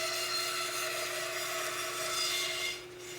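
Bandsaw cutting the side profile of a dried basswood decoy head, a steady close whirring hum with a continuous rasping buzz of the blade through wood, easing off at the end.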